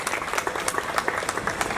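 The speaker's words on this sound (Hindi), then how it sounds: "बजा सकते हैं तालियां" Steady applause from a live comedy audience at a Hindi humorous poetry performance, dense overlapping claps filling the room at an even level.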